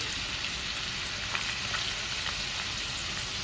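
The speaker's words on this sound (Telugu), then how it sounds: "Oil heat ఎక్కిందండి. ముందుగా ఈ ఆనియన్ వేసుకున్నాను." Thinly sliced onions, four small ones, frying in hot oil in a pan, giving a steady dense sizzle with faint crackles throughout, close and continuous with no talk.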